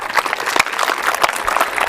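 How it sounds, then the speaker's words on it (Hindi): A group of schoolchildren clap their hands loudly together during a school PT and yoga session. The claps are dense, slightly uneven and close, running steadily through the whole moment. "अभी जोर से ताली बजाएंगे सारे बच्चे।"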